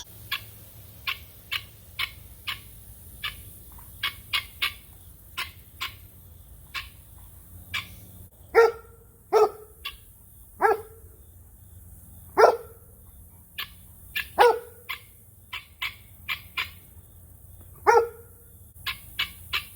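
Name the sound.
guinea fowl calling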